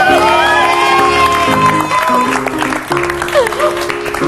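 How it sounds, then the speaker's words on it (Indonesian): Studio audience at an Indonesian TV talk show applauding a guest, loud clapping and some cheering mixed under prominent music throughout, continuous without a break. "Tepuk tangan lagi dong untuk Pak Busro."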